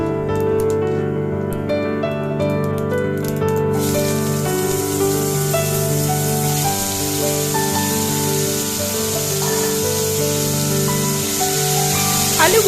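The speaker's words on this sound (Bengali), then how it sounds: "আলুগুলো তেলের মধ্যে একটু হালকা করে ভেজে নিতে হবে" Small diced potato pieces frying in hot oil with a five-spice tempering, a steady, bright sizzling hiss that holds throughout, with a brief clattering patch at the start and no speech.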